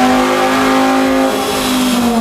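A Volkswagen Rabbit engine under restoration revs steadily and loudly up close, its strong, even drone holding for about two seconds with no talk over it.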